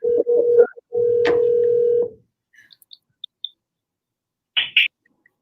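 Outgoing telephone call ringing: two long, steady ring tones, each about a second, followed by a few faint clicks and a brief electronic chirp on the line.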